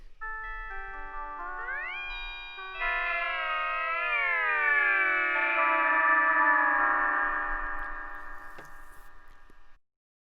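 Ableton Spectral Resonator processing filtered white noise, giving a dense chord of sustained resonant tones that glide and bend in pitch before settling into a steady, bright hum that fades out at the end.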